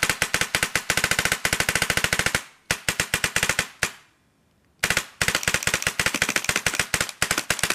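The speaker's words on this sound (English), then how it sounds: "So after this, just dry fire your gun for a bit." A Power FX airsoft gun dry firing in fast, sharp bursts of rapid clicks, loud and close, with a brief silent pause before firing resumes.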